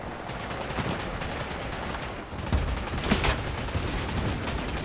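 Pistols firing in Vampire: The Masquerade - Bloodhunt make a rapid stream of gunshots over a busy, noisy game fight, loud and steady with a few sharper cracks standing out partway through.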